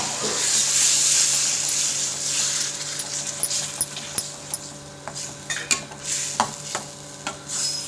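Tamarind water poured into a sizzling spice mixture in a pan, a bright hiss that settles into steady sizzling, broken by sharp clinks of a spoon stirring against the pan.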